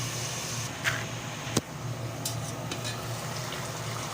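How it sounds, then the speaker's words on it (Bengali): Shrimp braising in a pan, a steady low sizzle with a couple of sharp utensil clinks against the pan. "চিংড়ি মাছটাকে আমি দুই তিন মিনিটের মতো কষিয়ে নিব"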